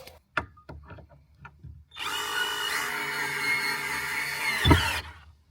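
A cordless drill drives into a platform being fitted inside a car, starting with a few sharp knocks and clicks, then one loud, steady whine lasting about three seconds before it cuts off with a thump.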